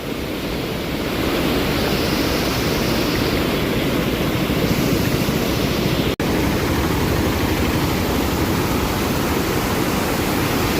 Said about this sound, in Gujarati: આ જગ્યા ઉપરથી પાણી આવે છે અને અહીંયા જોવો રાખો ઘડીક વાર રાખો માલણ નદીમાં ભરપૂર પાણી